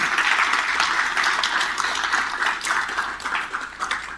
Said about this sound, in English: let's give all of our founders a round of applause for their accomplishments